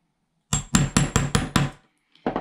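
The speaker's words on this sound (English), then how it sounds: "just start hole punching. You don't need a cute little hammer, you can just use a larger hammer as well for this." A hammer drives a hole punch through leather while making an axe sheath: six sharp, evenly spaced strikes ring out up close, then a pause before a seventh blow begins.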